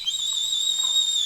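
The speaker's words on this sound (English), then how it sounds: "I'm going to blow the whistle." A referee's whistle blown in one long, steady shrill blast during a casual basketball game, loud and clear with no talk over it.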